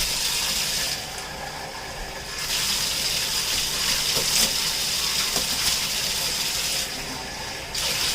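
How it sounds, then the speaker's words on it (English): Tap water runs steadily into a bathtub being cleaned in a home bathroom, a continuous close gushing hiss that briefly thins and then resumes, with no talking. "Okay, I need to put some water here."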